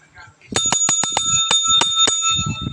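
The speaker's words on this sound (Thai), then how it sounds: "กดกระดิ่งแก้เขิน" A bicycle-style bell is rung in a quick, bright burst of about eight clear rings, close and loud, with someone talking softly before and after.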